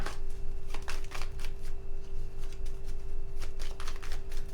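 Tarot cards being shuffled by hand in repeated riffling bursts, close and steady, with a faint constant hum underneath.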